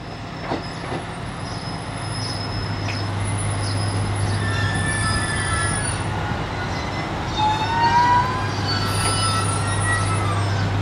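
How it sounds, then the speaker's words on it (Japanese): A two-car diesel railcar train rolls past with a low steady engine drone, squealing wheels and rail clatter rising and falling, heard from trackside. "200DC ディーゼルカーワンマン久留米駅"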